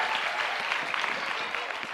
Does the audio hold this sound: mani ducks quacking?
no